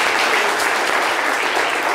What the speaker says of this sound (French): Applaudissez pour sa sape.